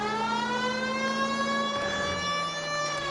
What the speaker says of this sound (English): Here's a novel idea. Turn on the siren.